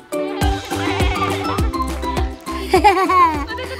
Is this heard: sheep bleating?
yes